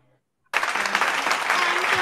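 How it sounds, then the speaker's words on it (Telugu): A group of children at a church children's club bursts into loud, dense clapping after a short silence and keeps it up evenly, with faint voices mixed in. "ఎవరు క్లాప్స్ ఆడిస్తున్నారు మరి ఈరోజు"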